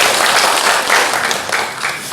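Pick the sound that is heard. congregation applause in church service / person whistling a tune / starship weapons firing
congregation applause in church service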